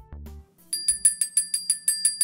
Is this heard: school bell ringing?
yes